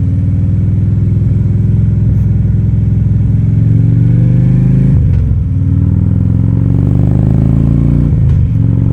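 A vehicle engine runs loud and close, climbing steadily as it revs to about 2500–2700 RPM. It briefly dips twice, as if shifting gears, then rises again.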